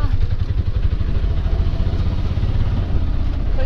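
An auto rickshaw's small engine chugs and clatters steadily and loudly from inside the cabin on a ride to a bus station in South India, with a low pulsing throb throughout.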